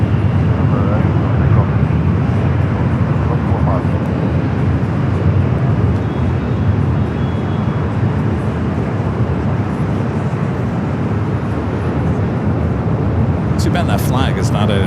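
Boeing Dreamliner on short final for runway 24 right at LAX, a constant dense engine rumble and whine holding steady throughout at a moderate distance, a voice talking over it and a few faint clicks near the end.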